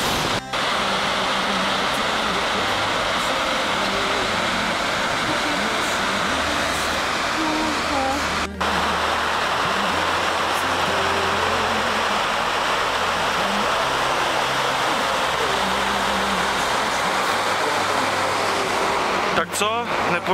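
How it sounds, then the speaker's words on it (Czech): Steady rushing water pours down continuously from a waterfall, a broad hissing roar with a few sharp knocks; faint voices sit beneath the noise. "tady už to krásně padá na nás ta voda z vrchu"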